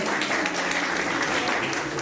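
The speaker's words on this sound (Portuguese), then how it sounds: "Uma salva de palmas, por favor." Dense, continuous applause from a large audience, loud and sustained throughout with no pauses.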